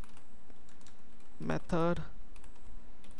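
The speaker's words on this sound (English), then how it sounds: "I'm typing like this" Fingers tap a computer keyboard while a web form is typed in jQuery code, a steady patter of close keystrokes running under a man's speech.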